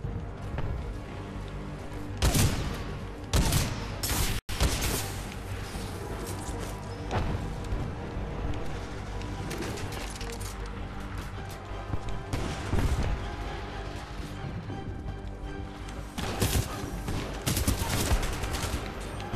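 Rapid bursts of gunfire from the shooter game Titanfall 2, loud and close, with sustained fusillades and sharp clusters of shots around brief lulls over a busy combat soundscape.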